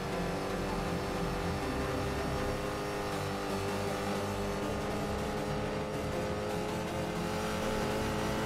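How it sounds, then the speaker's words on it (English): A big vehicle in the NoPixel GTA V role-play game driving past, a continuous, loud engine drone that holds steady throughout, with no talking. "a big one just drove by"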